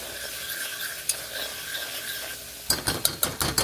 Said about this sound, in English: I'm going to use the leftover flour that I used for the steaks. That's about 2 tablespoons. I'm going to start mixing this up.